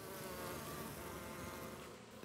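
Honey bees buzzing around a young queen bee, a steady low-level hum of many insects close by, continuous throughout with no voices.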